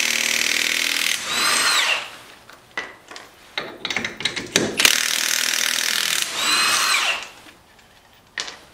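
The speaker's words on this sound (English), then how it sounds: "So I'm going to take the wheel off and the wheel spacer off and go from there." Impact wrench or power ratchet spinning off 19 mm aftermarket wheel fasteners on a 2005-2010 Jeep Grand Cherokee during a front brake job, several loud whirring bursts with ratcheting clicks and clanks between them, close by.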